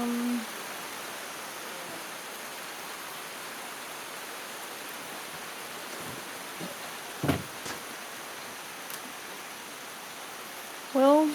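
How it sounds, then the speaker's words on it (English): Rain falls outdoors while the sun is out, making a steady, even hiss throughout with a few brief louder sounds near the end. "Oh, it came on. Sun and rain."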